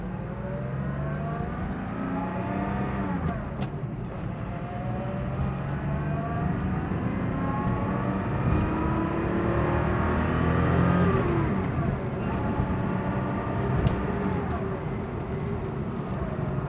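A 1986 Porsche 911 with a five-speed manual accelerates on a rough road toward about 60 mph, the engine note climbing through rising gear pulls with a shift around the middle, heard from inside the car.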